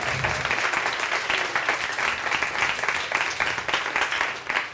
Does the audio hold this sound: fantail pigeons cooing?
no